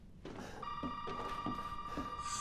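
A telephone rings inside the horror game Resident Evil 7: Biohazard, a steady electronic trill with three or four ring bursts over a low ambient drone, moderately loud and alone without talk.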